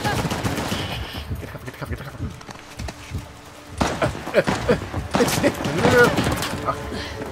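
Rapid bursts of gunfire in Uncharted: The Lost Legacy, loud and close, in repeated volleys with overlapping shots, while a player's voice talks over the action.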